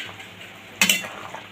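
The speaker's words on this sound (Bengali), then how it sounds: "দেখো বন্ধুরা ঢাকনাটা নামাচ্ছি।" A lid goes onto a cooking pot of boiling vegetables in water while making a raw banana dal: a close, sharp clatter, then a second knock, over a quiet kitchen background.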